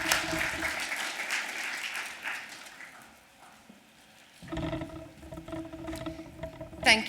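A conference audience at the AUSCERT2024 cybersecurity event applauds to welcome a speaker to the stage: dense, loud clapping that fades after a few seconds, then a brief lull before more crowd noise and a short burst of clapping return.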